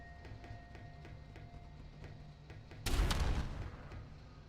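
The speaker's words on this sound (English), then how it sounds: "Oh, wow, the rocket launcher reloads shockingly quickly" A rocket launcher firing in an indie video game, a single loud booming blast about two-thirds through with a rumbling decay, preceded by faint rhythmic mechanical ticking.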